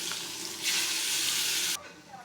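Eggplant slices hit hot oil in a wok, a close steady sizzle that swells suddenly louder for about a second, then drops back to a softer fry.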